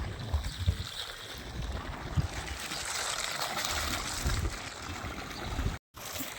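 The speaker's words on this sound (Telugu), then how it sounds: "చూడండి, నీళ్ళు ఎట్లా తిప్పుతున్నారో అవతలికి" Irrigation water flows and trickles steadily through a field channel to fodder grass for camels, with a soft continuous rush and some low gurgling, outdoors with light wind.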